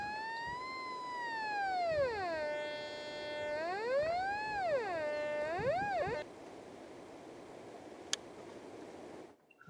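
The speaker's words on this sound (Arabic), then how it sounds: "كلما اقتربنا من مركز الهدف فإن إشارة النغمة تصبح أقوى وتتغير الحدة في الصوت" A metal detector's electronic tone gets stronger near a target, sliding smoothly up and down in pitch in repeated wavering sweeps for about six seconds before cutting off and leaving a faint hiss.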